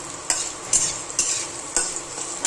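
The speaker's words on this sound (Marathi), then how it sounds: "हळद पावडर ना तेलामध्ये चांगली परतली पाहिजे" Turmeric powder and green chillies frying in hot oil for pohe, a continuous sizzle broken by several sharp stirring scrapes at an irregular rhythm, with no voices.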